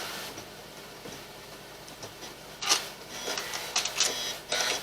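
A sewing machine stitches appliqué, following the contour of a fabric leaf on a Valentine table runner. It makes a close, rapid mechanical chatter in short bursts with brief pauses between runs.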